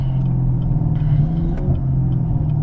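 A Chevrolet Camaro 2SS in traffic, its engine giving a steady, loud, low rumble throughout a short stretch, with no voices.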